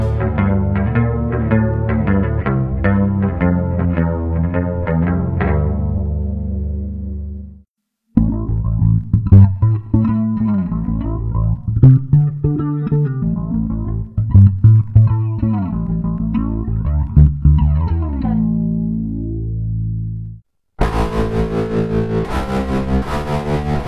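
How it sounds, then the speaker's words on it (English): Bass guitar run through the modulation effects of a Mooer BEM Box bass multi-effects processor: loud chorded and melodic phrases with swirling chorus-like modulation, pausing briefly between settings, ending in a brighter, buzzier tone, no talking. "In modulation module, you can enrich your tone by selecting the various modulation effects."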